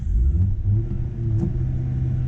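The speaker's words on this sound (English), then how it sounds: "let me do a couple of revolutions for you." An Audi A5 TFSI engine revs up sharply twice, its pitch rising and bouncing off the soft limiter before falling back, loud and close.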